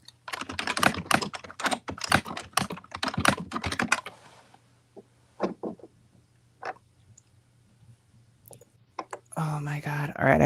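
Rapid bursts of close computer keyboard typing as a name is entered into a Google search, crisp clustered keystrokes, then a few sparse taps over a low hum before a person starts talking.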